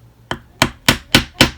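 Five sharp, evenly spaced hammer strikes land on leather as gussets are pounded into a clutch made of alligator and cowhide, each blow loud and close with a short decay.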